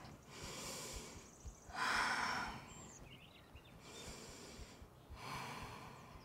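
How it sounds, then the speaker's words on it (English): Slow, deep breaths during a yoga flow: soft airy inhales and exhales in a few distinct bursts, close and quiet, with no talk. "Take a breath."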